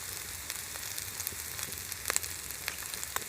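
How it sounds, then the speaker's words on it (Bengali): Cumin powder sizzling in hot oil in a pan while cooking doi katla, a steady close frying hiss scattered with sharp little crackles and pops. "এবার আমি জিরের গুঁড়ো দিয়ে দিচ্ছি"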